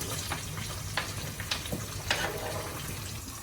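Dried chili and onions sizzle steadily in a hot pan with a soft crackling hiss, punctuated by a few sharper pops and light stirring clicks.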